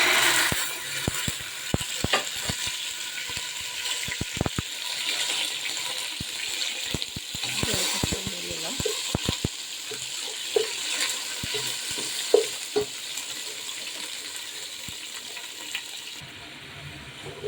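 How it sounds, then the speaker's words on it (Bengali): Spices fry in hot oil for hilsa pulao, a continuous loud sizzle punctuated by sharp clicks and scrapes of a spoon stirring in the pan throughout. "তেলের মধ্যে মশলাটা ছেড়ে দেবে"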